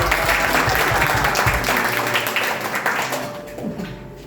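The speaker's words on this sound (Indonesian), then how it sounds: "kasih tepuk tangan dulu" Loud applause from a church congregation at a Sunday service, steady clapping filling the space, fading slightly toward the end with a few voices underneath.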